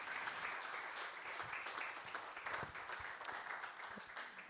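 An audience at an association's annual general assembly breaks into sustained applause, dense and steady clapping from many hands filling the hall, moderately distant and fairly quiet.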